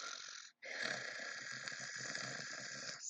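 A storyteller's voice imitates a hedgehog snoring in a children's tale, a steady, fairly faint breathy rasp that cuts out briefly near the start and then drones on alone for a few seconds.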